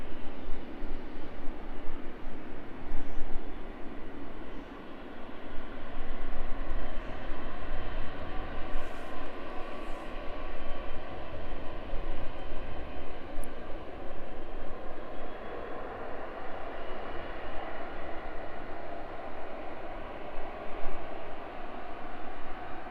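A Boeing 777F freighter taxis at East Midlands Airport, its engines giving a sustained broad roar with a steady whine on top, fairly close and slowly swelling and easing, with no talk.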